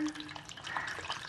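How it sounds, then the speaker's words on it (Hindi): Cold water poured over strained sago, a steady close splash and trickle of liquid that runs evenly through the short moment with no talking. "ये अब मैं ऊपर से ठंडा पानी डाल रही हूँ"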